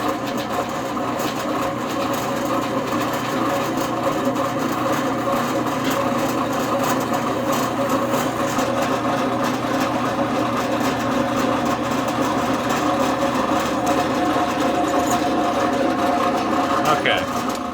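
A drill motor boring a hole through 12-gauge metal clamped in a vise, a steady mechanical whine and drone that runs unbroken from start to finish at an even loudness.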